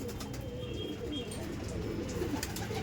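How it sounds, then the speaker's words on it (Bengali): Soft, repeated cooing of a Madras pigeon, a male bird at close range. The low murmuring coos roll on steadily with no talk. "এটা হচ্ছে নর পায়রা।"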